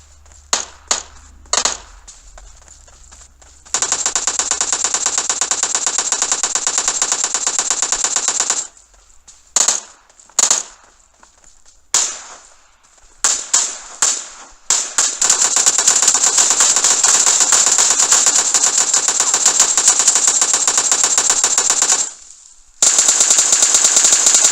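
Rapid automatic gunfire from the PUBG Mobile video game rattles in dense, loud bursts of varying length, some short and some sustained for several seconds, separated by brief pauses.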